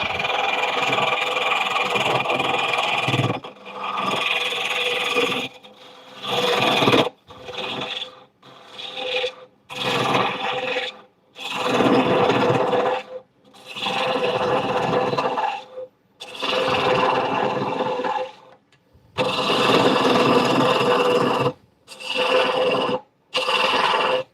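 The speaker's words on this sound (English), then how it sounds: "Now we're going to start carving it out. I'm going to go to bowl gouge on this" A bowl gouge cuts into a wooden bowl blank spinning on a woodturning lathe, making loud, rasping bursts of a few seconds each, separated by short pauses, with no talking.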